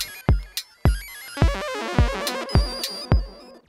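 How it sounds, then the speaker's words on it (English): Modor NF-1 digital synthesizer running a sample-and-hold random effect: sharp percussive hits repeat in an uneven rhythm while bright stepped tones jump randomly between pitches, loud and busy. "Sounds like this one makes use of sample and hold to get those random"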